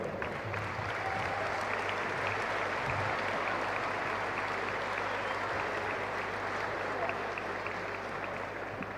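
A seated audience at a political talk in Rosario, Argentina, gives sustained, even applause to close a panel, a steady mid-level wash of clapping with faint murmuring beneath.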